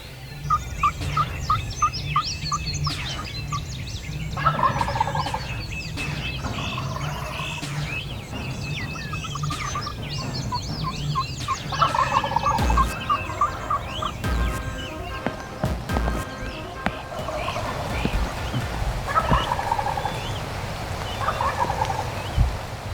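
Wild turkeys gobbling repeatedly in the field during a hunt, several bursts of loud, rattling gobbles, some near and some farther off, over steady outdoor ambience with bird chirps.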